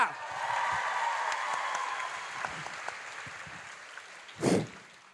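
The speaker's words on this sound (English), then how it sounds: "Round of applause for Peter!" A studio crowd on a sports talk radio show gives a round of applause for Peter, a steady clapping wash that fades toward the end, with a brief louder burst near the close.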